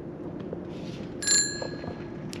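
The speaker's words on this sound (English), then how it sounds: "It even has a bell!" A bicycle bell rings once, bright and close, with a ringing tone that fades over about a second, against outdoor ambience on a lakeside bridge.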